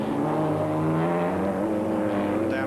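A Ferrari Dino race car at 1991 historic racing at Montlhéry gives a loud, steady, close engine drone, its tone holding with a slight rise, and no one speaking over it.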